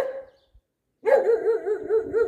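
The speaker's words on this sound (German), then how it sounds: "Deswegen bellt er durchgehend, damit er ernst genommen wird." A dog gives a short yelp, falls silent, then launches into a loud, close, sustained run of rhythmic, wavering barks and howling yowls.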